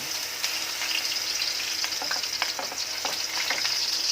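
Garlic sautéing in a hot pan, a steady sizzling fry with light stirring scrapes scattered through it, close and continuous with no talking.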